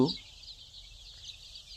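A faint, steady chorus of high-pitched chick cheeping from poultry chicks under a brooder continues throughout, with a brief voice at the very start.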